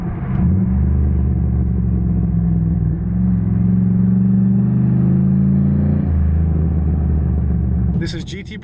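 A 2007 Pontiac Grand Prix GXP engine rumbles loudly and steadily close by, its tone stepping up around the downshift and holding as revs rise, then cutting off near the end.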